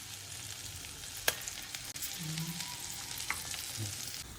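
Egg bhurji frying in a pan, with a soft steady sizzle and a few light stirring clicks from a utensil, quiet and close, with no voices.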